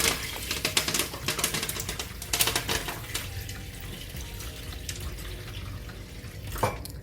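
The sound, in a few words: rinsing beans in water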